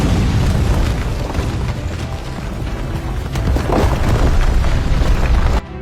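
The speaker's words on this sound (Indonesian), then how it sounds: "kaum Patan pun berhasil menanamkan bom di benteng sebelah barat dan meledakkannya" A heavy, sustained explosive roar from a bomb blast at a fort in an Indian film, dense rumbling booms and debris lasting several seconds before cutting off abruptly.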